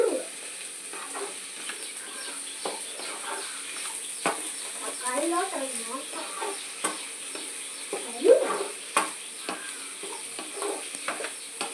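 Onions sautéing in a pan for ulli theeyal, a soft steady sizzle with occasional stirring scrapes, close and moderate in level, with a person talking over it.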